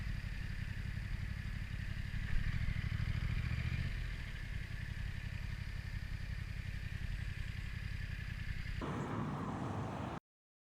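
A car motors along a UK road to the next petrol station, its engine a steady, close drone with road rumble that runs evenly for several seconds before a brief change near the end, with no talking.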